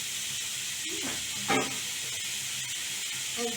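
Water is poured into a hot pan of mango chutney, raising a continuous steamy hiss with a brief louder burst of sputtering partway through and a few small bubbling pops near the end.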